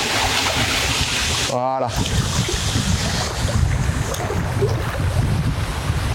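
Stormy wind blowing over the Rhone river during feeder fishing, a steady rushing gust noise with low microphone buffeting throughout, and someone briefly speaking a single word near the start.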